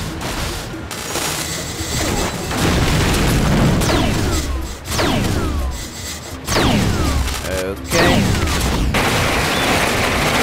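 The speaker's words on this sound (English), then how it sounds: "Boom. You're not supposed to get close to those big bombs." Big bombs explode in the video game Bionicle: Heroes: a run of loud, close booms and crashing blasts with falling whistling debris, one after another for ten seconds.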